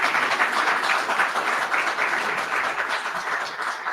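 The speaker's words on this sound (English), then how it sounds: "let's give him a big round of applause." Steady, dense applause from a conference audience, many hands clapping at once at an even, fairly loud level throughout with no voices over it.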